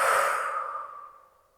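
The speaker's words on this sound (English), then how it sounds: "breathing with intention, really feeling the inhale and the exhale" Long deep exhale during a yoga class, a breathy rush that starts loud and close then fades smoothly away over about a second and a half, with no talking.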